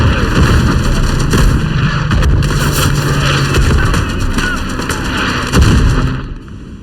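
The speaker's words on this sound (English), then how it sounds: "Dropping another barrage directly on the HQ." Heavy artillery shells crash and boom repeatedly in a WW1 Gallipoli multiplayer battle game, a dense, loud barrage of overlapping explosions and rumbling gunfire continuing throughout.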